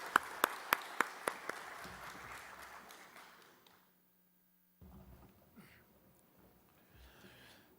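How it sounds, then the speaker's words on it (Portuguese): Faint applause from an audience at a legislative hearing welcoming a Public Ministry representative: a few sharp claps open a soft, distant patter that fades out after about four seconds over a steady electrical hum, then a brief pause and quiet room noise. "Uma salva de palmas para recebermos o representante do Ministério Público."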